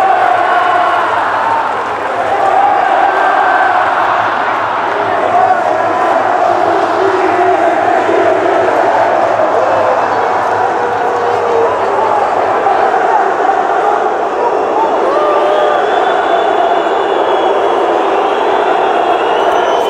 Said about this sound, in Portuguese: Isso aí é o clima da torcida